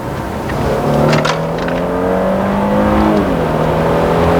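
A Mercedes-Benz E400 coupe accelerating in sport mode, its engine drone rising steadily in pitch from inside the cabin, loud and continuous, with a brief dip like a gear change near the end.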